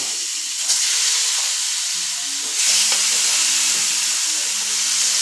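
Steady loud sizzling of chicken frying in a hot pan, a continuous crackling hiss with small pops and occasional scraping, no voices.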